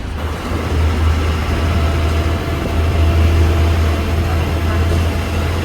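A bus idles with a steady low engine rumble at the Karad bus stand, heard from inside, with a continuous hum and faint background noise throughout.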